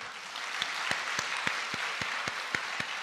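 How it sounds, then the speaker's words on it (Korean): A Korean church congregation claps together in a slow, steady rhythm honoring elders during an afternoon Sunday service, about ten evenly spaced claps over a faint background wash of applause. "박수 한번 해주실래요?"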